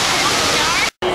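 A water fountain runs outdoors in downtown Chicago, a loud steady broadband rush of falling water that cuts out abruptly for a moment near the end before resuming.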